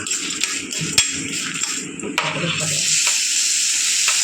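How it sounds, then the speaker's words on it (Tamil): Black urad dal and tomato sauté in a pan for chutney, a bright continuous sizzle broken by sharp spoon knocks and scraping stirs against the metal, growing steadier toward the end. "இது கூடயே தக்காளியும் போட்டு வதக்கலாம்"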